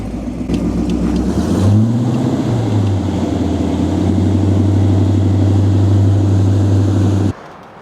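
A restored 1970 Pontiac GTO Convertible engine idles loudly, then blips up and settles into a steady rumbling rev that holds for several seconds before cutting off abruptly.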